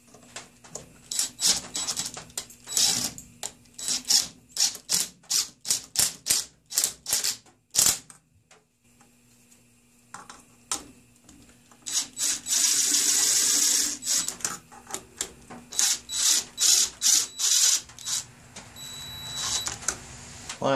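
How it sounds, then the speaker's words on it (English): Bolts being run in and lightly snugged on a Ford Focus 2.0L SOHC SPI engine during a rebuild, heard as bursts of rapid ratcheting clicks in a steady rhythm, close and fairly loud, with a longer whirring stretch partway through. "I'm not tightening them down very much at all, just enough so that it doesn't fall"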